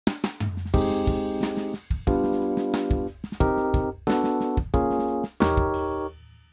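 Keyboard playing three minor seventh chords in sequence over a bass and drum groove, each sustained chord struck and held before the next, clear and close.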